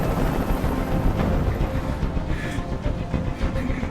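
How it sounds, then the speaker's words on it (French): A helicopter in the video game Detroit: Become Human: a loud, steady low rumble with a fast rotor chop fills the whole stretch, near and unbroken. "Je peux plus supporter ce bruit. Fais dégager cet hélicoptère"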